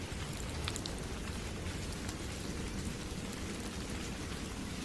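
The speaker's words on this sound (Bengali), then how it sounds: "ঝমঝম করে মুষলধারে বৃষ্টি।" Heavy pouring rain with thunder as a story sound effect: dense, steady broadband downpour hiss, close and continuous throughout, with a low rumbling undertone, no voices.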